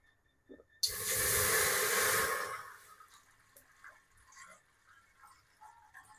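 Water pours into a pan to start sugar syrup for gulab jamun in a home kitchen: a close, loud gush lasting about two seconds, then quiet with a few faint clinks.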